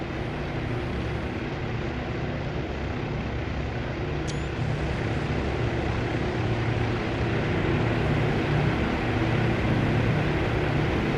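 Carrier aircraft take off in the naval strategy game Task Force Admiral, a steady droning roar of propeller engines that grows slightly louder over the span, continuous and without talk.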